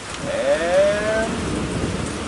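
A thunderstorm with steady heavy rain hissing and low rumbling throughout, while a faint rising, wavering tone sweeps through briefly near the start.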